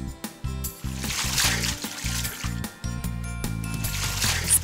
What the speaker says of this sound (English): Splashing!